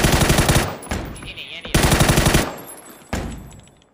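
Rapid machine gun bursts in a shooting video game, two long loud volleys of fast shots, each followed by shorter echoing bursts that fade out.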